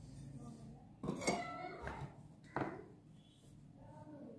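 Bonda batter of gram flour and rice flour with red spinach and spices being stirred in a bowl, giving a few close clinks and scrapes of a spoon against the vessel over quiet kitchen background.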